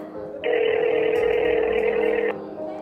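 A telephone call being placed: a steady, loud ringback-style tone holds for about two seconds, then cuts off, with low background murmur before and after.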